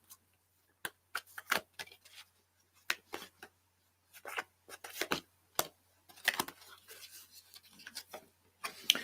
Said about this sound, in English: Let's have a shuffle, and then I'm going to cut the deck.